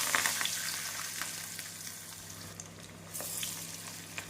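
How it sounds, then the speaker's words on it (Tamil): Banana flower vadas fry in hot oil with a continuous close, moderate sizzle and bubbling, broken by occasional light clinks and stirring. "அனைத்து வடையும் பொரித்து எடுத்து விடலாம்."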